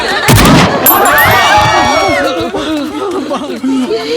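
A single loud gunshot cracks out in a Tamil comedy film scene, a sharp close blast that fades into a murmuring crowd and several voices talking.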